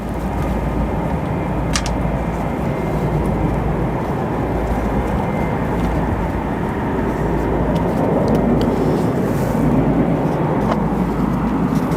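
An aircraft at O'Hare airport produces a sustained loud rumbling engine roar that swells slightly toward the end, steady and continuous with no talk.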